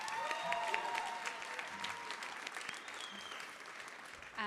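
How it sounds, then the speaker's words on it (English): Applause fills a banquet room at a charity gala auction, a steady wash of many hands clapping with some crowd noise, fairly distant and moderate, thinning slightly toward the end before a brief swell. "I don't hear enough applause going on in the room."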